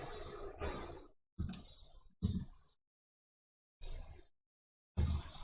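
A computer mouse clicking while downloading a PNG icon for a smartphone app project, a handful of separate close, soft clicks spaced by brief silences.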